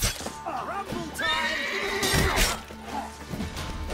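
A horse in the video game The Witcher 3: Wild Hunt, at Crookback Bog, gives a loud, drawn-out whinny, with hoof clatter and a voice talking nearby over a steady background.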